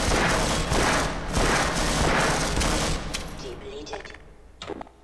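Gunfire in Half-Life: Source: a dense barrage of rapid shots for about three seconds, then the firing thins out into a few scattered sharp shots and quieter game noise.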